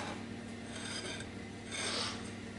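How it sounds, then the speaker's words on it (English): Knife rasping as butter is spread on slices of bread, soft scraping strokes close up, two or three sweeps with a slightly louder stroke near the end, no talk. "we butter our bread"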